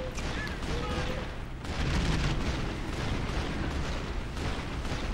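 Dense, continuous battle noise from Call of Duty 2: Big Red One on PS2, with sustained gunfire and booming blasts filling the whole stretch, loud and unbroken throughout.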